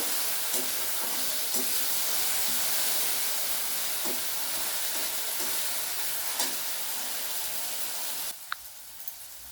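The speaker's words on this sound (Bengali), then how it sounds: "যতক্ষণ না রসুনের আদার কাঁচা ভাবটা না যাচ্ছে ততক্ষণ আমি ভেজে নেব" Garlic and ginger paste frying in a pan, a steady hissing sizzle with sparse light stirring clicks that drops off abruptly near the end.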